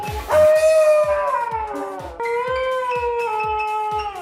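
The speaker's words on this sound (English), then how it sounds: "this dingo sings" A dingo howls in long, wavering tones that slide up and down, close and loud, while a steady rhythmic thumping pulses underneath throughout.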